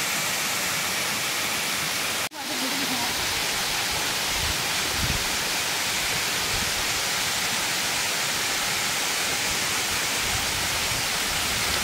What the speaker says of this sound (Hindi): बेहद खूबसूरत ये झरना, इसका आकार देखिए काफी बेहतरीन।